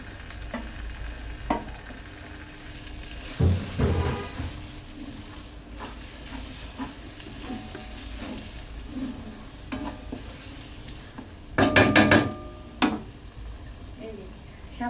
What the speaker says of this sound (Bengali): আর একটু ভালো করে লাড়াচাড়া দিয়ে দিব